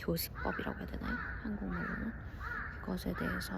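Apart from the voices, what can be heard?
crows cawing outside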